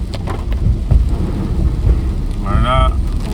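Heavy rain drums steadily on a car driving NH 66 from Parassala toward Trivandrum via Kovalam, a broad constant wash with low road rumble and a brief tonal whine near the end.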